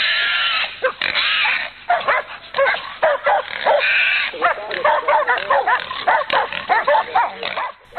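Hunting dogs attacking a wild boar held by the ears: frantic barking, yelping and whimpering mixed with the boar's squeals, loud and chaotic, with people's voices in the background.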